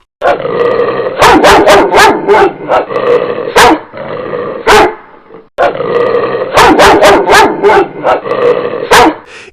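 A dog barks and growls loudly and close by, in repeated bursts of sharp yips and snarls across two stretches with a brief pause between.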